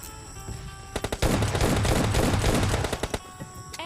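Rapid bursts of automatic gunfire in a battle royale game (PUBG-style), loud and dense, with a few scattered shots before and after the main volley.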